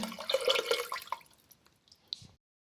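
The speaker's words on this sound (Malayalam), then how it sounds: "നമ്മൾ തൈര് ഇതിനകത്തേക്ക് ഒഴിക്കുവാണ്" Curd is poured into a cooking pot as a short run of wet glugs and plops that thins out over about a second, followed by a few scattered drips and a faint final splash before silence.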